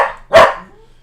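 A single loud, sharp bark from a pet dog indoors, close to the microphone and alone.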